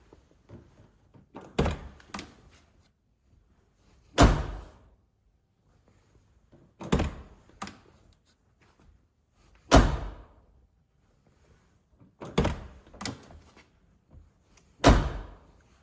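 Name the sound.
Lincoln Town Car door closing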